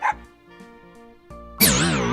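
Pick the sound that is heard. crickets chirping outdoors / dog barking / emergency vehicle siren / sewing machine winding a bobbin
dog barking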